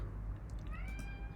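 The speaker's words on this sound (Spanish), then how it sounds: "Voy a abrirle al gato que quedó afuera." A cat shut outside a door gives a single drawn-out meow, rising then sliding down, heard over a steady low hum.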